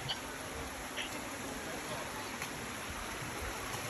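Faint, steady rush of a stream flowing near the Hamilton waterfall, an even wash of water noise throughout with no distinct events.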